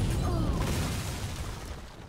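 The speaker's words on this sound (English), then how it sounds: "No, let's flame strike." A Flame Strike spell explodes in the card game Hearthstone, a loud, broad, rumbling fiery burst that fills the moment and slowly tapers off.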